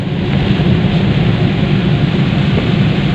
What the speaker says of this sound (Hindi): देखिए आप, मूसलाधार बारिश शुरू हो चुकी है।